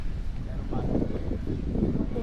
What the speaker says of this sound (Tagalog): Presko ng hangin, no?